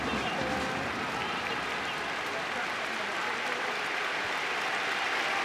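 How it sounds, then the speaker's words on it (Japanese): Stadium applause and crowd roar at a J.League football match between Consadole Sapporo and Sanfrecce Hiroshima, a continuous broad wash of clapping and noise with a commentator's voice faint underneath. "いや拍手だ。"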